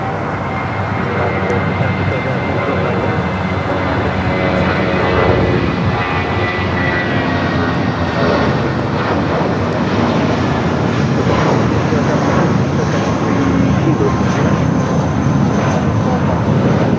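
A Lufthansa jet airliner roars loudly and steadily at Los Angeles International Airport, seen from Imperial Hill, its broad engine rumble filling the whole stretch with a faint voice underneath.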